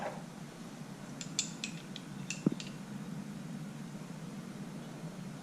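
Wrenches being fitted and tightened during a motorcycle oil change: a few light metallic clinks and ratchet-like ticks in a brief cluster over a steady background hiss.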